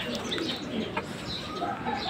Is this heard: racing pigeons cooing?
yes